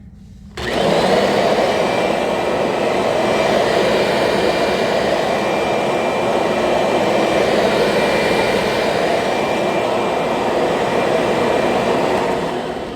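Kirby Sentria upright vacuum cleaner switching on in drive mode and running steadily, a loud, continuous whirring motor roar with a high whine that holds evenly for about twelve seconds, close by and with no voices.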